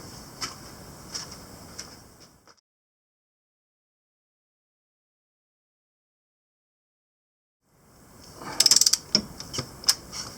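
A ratchet wrench clicks through a few quick strokes on the cylinder head bolts of a Mitsubishi 4G93 engine, then a long silence before a denser, louder burst of ratcheting close by.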